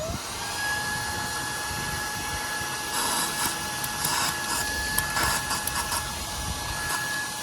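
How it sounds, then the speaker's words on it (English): A household vacuum cleaner sucks rust and debris out of an engine cylinder on a VW Golf Mk5, with a steady high-pitched whine held close and constant, and some rattling and scraping partway through. "So I'm just going to try and hoover that up with my hoover"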